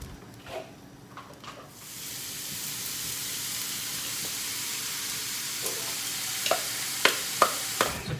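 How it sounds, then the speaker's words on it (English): Vegetables are tipped into a hot pan holding leftover beef juices and start frying with a sudden, steady sizzle. The hiss lasts throughout, with a few light clinks of stirring near the end. "We're going to chuck the veggies in and cook them."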